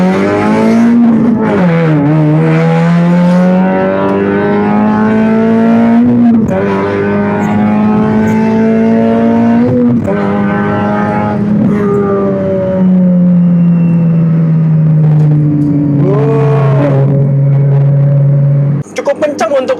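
A Honda Jazz GK5 with Rocket Plus upgrades accelerates hard in a speed test, its engine droning loud and steady as it climbs through the revs with brief shift dips, and people talk inside the cabin over it.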